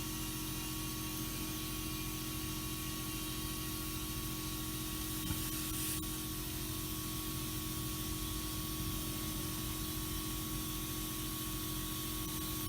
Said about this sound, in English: Compressor's pumping again.